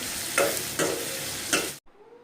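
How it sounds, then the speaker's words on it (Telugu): Onions with ginger-garlic paste frying in a pan for Andhra-style mutton curry, a close, steady sizzle swelling with three stirs before cutting off abruptly into quiet. "ఆనియన్ అయితే బాగా ఫ్రై అయిపోయాయండి."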